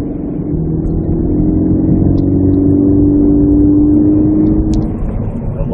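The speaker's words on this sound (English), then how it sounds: "I love the way my car sounds" A 2014 Scion FR-S sports car's engine hums loud and steady from inside the cabin while driving, a continuous low drone with a slight rise in pitch mid-way.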